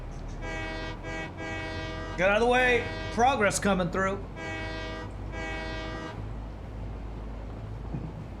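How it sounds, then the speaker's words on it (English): Train horn in the factory-building video game Satisfactory blares in two long, loud sustained blasts, one at the start and another near the end, with someone talking excitedly over the middle section. "What's the train horn again?"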